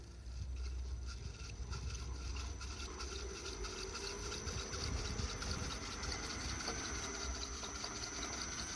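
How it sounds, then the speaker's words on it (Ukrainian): A log splitter's motor runs at its highest revs as it starts slowly, giving a steady, continuous engine drone with a faint high whine. The sound stays close and even throughout, with no talking. "Тобто мотор видає самі більші оберти і стартуємо помаленьку."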